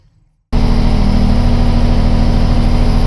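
A big cam Cummins diesel in an older truck at an auction starts up suddenly after near silence, then idles loud and close with a deep, steady rumble and a low continuous hum while the air system builds pressure.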